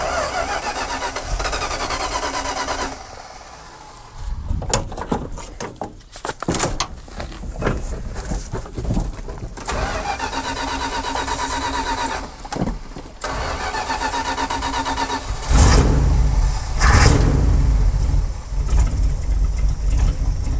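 An old Dodge Power Wagon truck engine, unstarted for 16 years, cranks and sputters several times, then catches and settles into a loud, rough idle.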